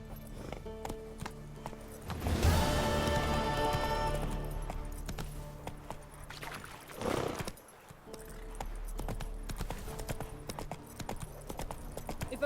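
Roach, a horse in The Witcher 3, gallops with steady clip-clop hoofbeats and lets out a loud whinny partway through, over a low ambient bed with no talk.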